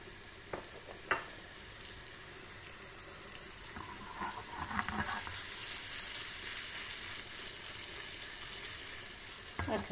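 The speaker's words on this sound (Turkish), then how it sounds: "Diğer tarafta da bir yemek kaşığı soya koyarak köftelerimizi kızartalım." Meatballs with soy sauce sizzle and crackle steadily in a hot pan, with a few sharp clinks of a utensil stirring and scraping.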